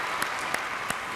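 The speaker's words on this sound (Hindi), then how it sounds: "भाई जोरदार तालियां।" Brief, full applause from a studio audience on a Family Fortunes game show, steady and loud, with a few sharper claps standing out.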